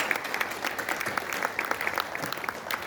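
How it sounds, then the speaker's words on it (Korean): Applause from an audience at an award ceremony marking a national founding anniversary, a steady wash of many hands clapping, moderately distant and fairly soft, continuing for several seconds with little else over it. "뜨거운 박수로 응원해 주시기 바랍니다."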